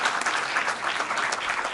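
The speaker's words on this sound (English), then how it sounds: "let's give him a round of applause anyway" A school board meeting audience gives a short round of applause for an absent award winner, a dense burst of many hands clapping, steady and moderately loud throughout.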